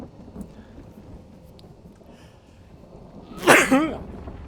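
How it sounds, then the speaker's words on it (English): A single loud sneeze bursts out near the end, sharp and close to the mic. Before it there is a low rumbling ambient bed of sound from a Gondor campaign strategy game. "Whew, a little bit of a sneeze there."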